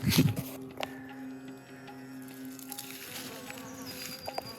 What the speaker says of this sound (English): Look at the bee.